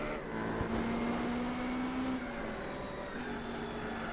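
Race car engines from Gran Turismo 4, including a Bentley Speed 8 and an R390, drone steadily at close range with a sustained rising whine and continuous broadband roar.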